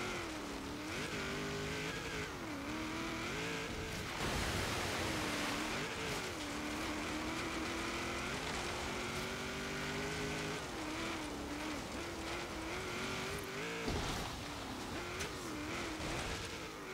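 A 1974 Holden Sandman HQ panel van in Forza Horizon 3 drives off-road through water, its engine droning and revving continuously amid constant splashing and wash.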